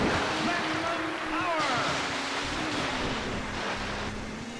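In the video game Wave Race 64, water waves surge and wash steadily while a jet ski races across them, its engine whine rising and falling under the continuous surf noise.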